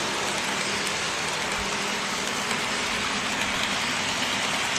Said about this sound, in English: There's a train going underneath and through.